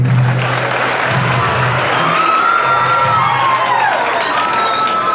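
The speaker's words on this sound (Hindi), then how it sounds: "प्यारे बच्चों, एक बार आप अपने लिए जोरदार तालियां बजाइए" Children at a certificate distribution event for a free computer course applaud loudly for themselves, a thick, sustained roar of clapping mixed with cheers, shouts and whoops from the crowd.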